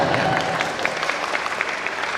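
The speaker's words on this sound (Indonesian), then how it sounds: "Kita tepuk tangan buat rencana ini." A family gathering at a Batak Nababan clan prayer meeting claps together in a short, fairly steady burst of applause heard at moderate level.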